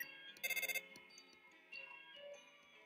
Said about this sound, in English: The phone is ringing, but you can't get it.